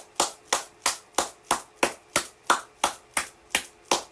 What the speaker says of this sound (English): let's give Nick Cannon a round of applause